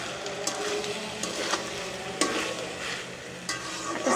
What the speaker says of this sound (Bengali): এখন সেই মাংসটার মধ্যে সিদ্ধ করা পাস্তাগুলোকে ছেড়ে দেওয়া হলো, এখন নেড়ে দেওয়া হচ্ছে।